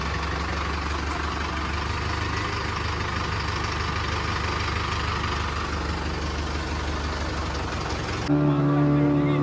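A tractor engine idles steadily in floodwater in a village, a constant low rumble that runs throughout, ending in a louder, brief tonal burst.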